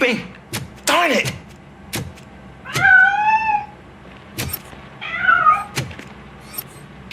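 A cat meows in the Robocop video game, a few drawn-out mewing calls close by, mixed with sharp clicks and knocks and some voices talking.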